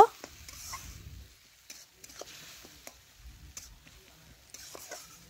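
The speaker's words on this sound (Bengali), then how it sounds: "এখন ভালোভাবে নাড়াচাড়া করে আমি একটু কষে নেব" Snail (gugli) curry stirred in a pan during frying, with scattered spoon scrapes and a soft sizzle, a denser low rumble of stirring near the start and again midway, no talk.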